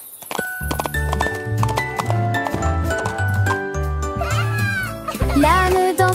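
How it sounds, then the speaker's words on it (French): Cartoon donkey hooves clip-clop in a steady, loud rhythm along a village street, blended with a bouncy children's song, tinkling little bells and a bleating, wavering voice near the end. "L'âne dansait le long de la rue du village"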